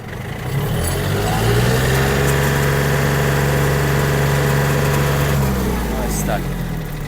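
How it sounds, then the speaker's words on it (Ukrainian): A Yanmar US-31D mini tractor's diesel engine runs at full throttle, a loud, steady drone that holds unbroken for several seconds before easing slightly at the end. "як поводив себе трактор на повному."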